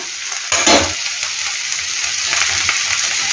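Ivy gourd and cumin curry frying in a pan: a loud, close, continuous sizzle with light stirring scrapes, no voices.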